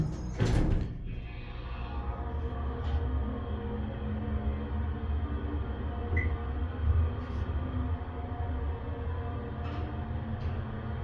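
A Dover Impulse hydraulic elevator door slides in a building at 875 Old Country Rd, Plainview, NY. A bump opens the clip, then a steady mechanical rumble and hum continue close by with no talking.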